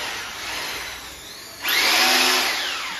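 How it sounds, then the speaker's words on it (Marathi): A power drill bores holes in a wall to mount a curtain channel during roller curtain fitting, starting as a softer whir and then biting in with a loud, steady grinding whine for about a second and a half before easing off. "चॅनल फिटिंग करण्यासाठी ड्रिल मारून घेतोय"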